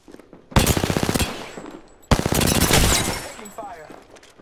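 Rapid automatic gunfire in the Apex Legends battle royale game, two loud close bursts of rattling shots, the second longer and trailing into faint echoes.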